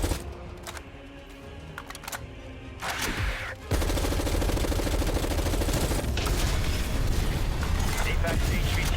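Rapid bursts of video game gunfire rattle against zombies, dense and loud after a quieter, scattered opening, with mechanical clatter mixed in and game voices faintly underneath.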